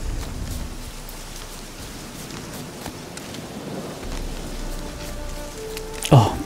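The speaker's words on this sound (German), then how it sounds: "Oh, ich liebe Regen." Steady rain pours in The Witcher 3: Hearts of Stone, a continuous hiss of drops on surfaces with a brief louder clatter near the end.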